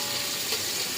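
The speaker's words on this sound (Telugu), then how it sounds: "నెక్స్ట్ అల్లం వెల్లుల్లి పేస్ట్ వేసుకోవాలి. నీట్గా కలుపుకోవాలి." Ginger garlic paste frying in a pan for chicken fried piece biryani, a dense, even hiss of sizzling oil, close and steady for about a second with no voices.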